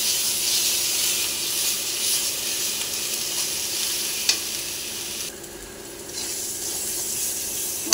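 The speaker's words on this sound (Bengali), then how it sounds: "এই মশলাটাকে ভাজবো।" Turmeric, chili powder and salt frying in a pan give a loud, steady sizzle and hiss that fills the whole stretch, close and without voices. The sizzle dips briefly partway through and there is an occasional faint clink of stirring.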